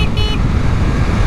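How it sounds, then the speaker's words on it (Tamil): A Bajaj Dominar 400 BS6 motorcycle sounds its horn in two short, close toots over a steady roadside traffic rumble. "இந்த பைக்கில் ஹாரன் இங்கே பாருங்களேன், ஸ்கூட்டி கூட இந்த மாதிரி ஹாரன் இருக்காது."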